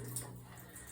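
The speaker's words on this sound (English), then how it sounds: "Got a little bit of water left in there, but it shouldn't be too much. Should drain out fairly quick." Water draining out of a well pressure tank, a faint, steady trickling wash heard up close that runs throughout with no voices.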